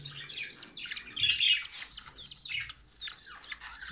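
Budgerigar chicks in a nest box chirp and cheep continuously, a busy overlapping chorus of thin, high-pitched calls heard close up, with no one talking.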